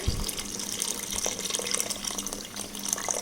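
Water is poured into a rice cooker holding potato and tomato curry, a soft continuous splashing trickle with small drips, quiet and close, with no talking.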